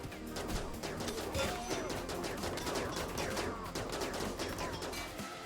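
Mortar fire in the colony game Rimworld: a steady stream of sharp, rapid booms and cracks, heard moderately loud and dense throughout with no talk over it.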